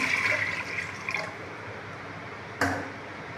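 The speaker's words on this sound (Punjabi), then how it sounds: "ਕੁੱਕਰ 'ਚ ਆਪਾਂ ਪਾਵਾਂਗੇ ਪਾਣੀ" Water splashes and pours into a metal pressure cooker, a steady watery rush that eases off, followed by a brief clatter near the end.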